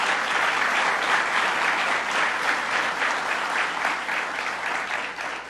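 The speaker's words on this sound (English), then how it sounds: "Let's give President Conway Turner a round of applause" Sustained applause from an audience at a community event honoring first responders, a dense steady patter of many hands clapping that fades slightly toward the end, with no talk over it.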